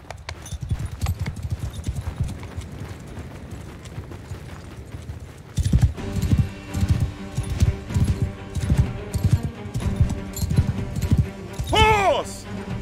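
Horses gallop into battle in Mount & Blade Bannerlord, first a softer rumble of hooves and then a denser, louder pounding charge, with a brief whinny near the end and shouted voices under the hoofbeats.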